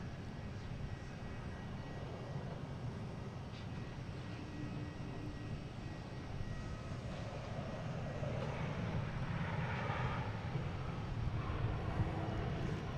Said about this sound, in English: American coming in from Louisville. E175. Landing on 4 right